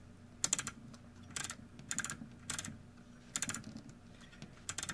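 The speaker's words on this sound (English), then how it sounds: "rotate the controls back and forth quickly several times to distribute the cleaner" Selector switch controls on a Panasonic SE-970 stereo, freshly sprayed with contact cleaner, rotated quickly back and forth, giving about six sharp clattering bursts of clicks spaced roughly half a second to a second apart, close and alone.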